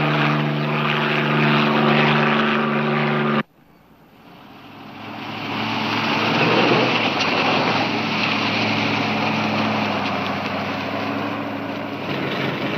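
A helicopter flying over a highway during a police pursuit, with a steady droning engine and rotor hum that cuts out abruptly, then swells back up and stays loud and continuous.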